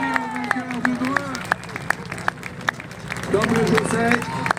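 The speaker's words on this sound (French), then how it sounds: "on peut applaudir le vainqueur de Dreux" A crowd at a Dreux rallycross championship round claps for the race winner, scattered sharp handclaps under steady talk and babble, with the clapping swelling a little toward the end.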